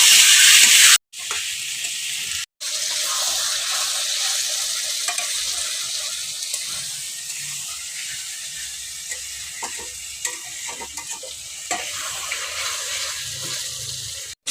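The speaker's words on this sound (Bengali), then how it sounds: "চিকেনের সাথে মশলাটাকে কষিয়ে নেব।" Chicken pieces with spices and potatoes stir-fried in a pan, giving a steady close sizzle with scraping stirs that runs throughout, broken by two brief silent gaps near the start.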